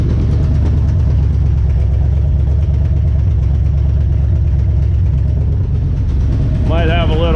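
A 1975 GMC Sierra 1500 that has sat since the 80s idles with an exhaust leak and a possible misfire, giving a loud, steady, close rumble. Someone speaks briefly over it near the end.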